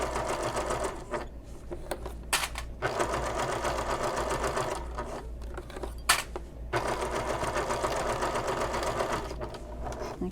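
A sewing machine runs steadily, stitching a seam along bag binding about 1/8 inch from the edge, with a few brief pauses and restarts between long continuous bursts, close and loud.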